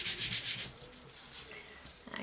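The back of a craft piece is rubbed by hand in a few quick, close, dry scratchy strokes, rhythmic at first and then slowing into softer, scattered brushes.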